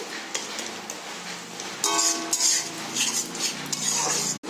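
Spice masala fries and is stirred in a pan, with a low sizzle underneath and close, repeated metallic scraping and clinking of a utensil against the pan that grows louder partway through.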